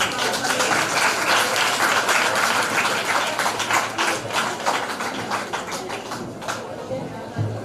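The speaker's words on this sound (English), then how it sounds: "Everybody give her a round of applause." An audience at a primary school leaving ceremony in 2025 applauds steadily with many overlapping hands. The sustained clapping fades gradually toward the end.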